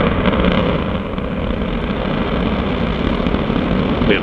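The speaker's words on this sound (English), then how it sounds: "We have liftoff of the Antares vehicle for the Orb 1 mission" An Antares rocket lifts off carrying a Cygnus cargo craft bound for the International Space Station, heard as a loud, continuous, broadband roar that stays steady throughout with no speech.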